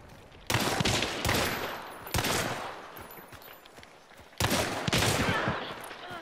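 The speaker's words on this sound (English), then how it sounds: "He keeps shooting me" Video game gunfire comes in loud, sustained automatic bursts, three main volleys with brief gaps between them and steady firing throughout.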